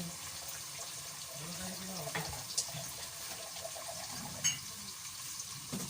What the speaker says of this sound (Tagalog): tubigan natin para sa sabaw